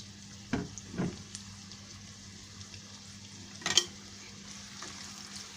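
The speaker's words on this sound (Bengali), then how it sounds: "তো পেঁয়াজ কুচিটাকে একটু তেলের উপর ভেজে নিব" Two medium chopped onions fry in hot oil in a pan for a bottle gourd and prawn curry, a faint, steady sizzle broken by a few soft knocks and clinks of stirring.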